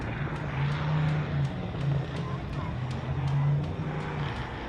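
The 4570 Poison Spider off-road race car approaches with a rising engine drone that swells and dips, heard under an announcer's voice at the MetalCloak Stampede.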